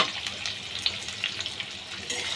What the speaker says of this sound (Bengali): এইবার আমি পেঁয়াজগুলো দিয়ে দেবো। পেঁয়াজগুলো কিন্তু বেশ লাল লাল করে একটু ভাজতে হবে।